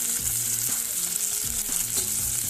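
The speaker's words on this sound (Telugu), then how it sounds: "ముందుగా మసాలా దినుసులు వేసుకోవాలి. ఇది 1 నిమిషం పాటు వేగనివ్వాలి." Whole spices fry in hot ghee in a pan for egg fried rice, giving a steady, close, loud sizzle with brief crackles and stirring scrapes throughout. No one speaks.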